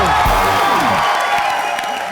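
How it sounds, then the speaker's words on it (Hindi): Studio audience applause and cheering on a live Hindi comedy show, a loud continuous burst of clapping and whoops that holds steady for about two seconds. "जोरदार तालियां हो जाए."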